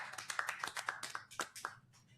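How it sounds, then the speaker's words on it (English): A small studio audience giving a round of applause, a handful of distinct hand claps in an uneven, sparse rhythm, fairly quiet and close. "we want to give our audience and those that support us a nice round of applause"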